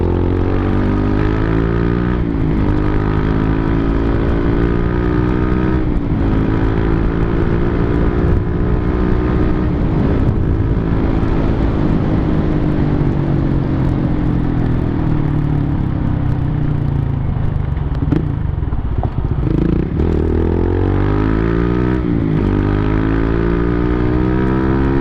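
A big-bike motorcycle engine freshly given an oil change runs loud and steady while riding, its pitch swelling and falling through repeated gear changes and throttle shifts with no talk.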